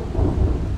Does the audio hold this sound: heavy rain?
yes